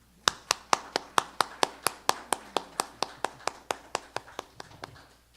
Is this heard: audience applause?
yes